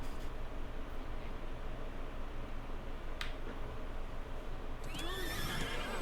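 A horse in a video game lets out a short whinny near the end, over a constant dense noise bed with a faint click or two just before; no talk.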